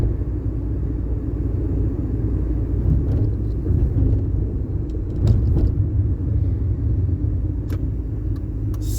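An old car with a Ford CVH engine drives along with a steady low rumble and road noise from inside the cabin, broken by a few faint clicks and knocks.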